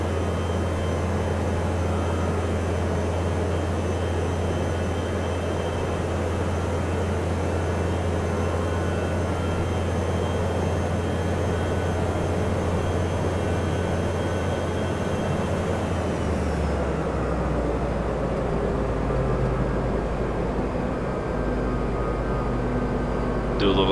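A Powerchute Rascal powered parachute engine drones steadily in a flight simulator, a continuous buzzing hum that shifts to a deeper tone partway through before carrying on evenly.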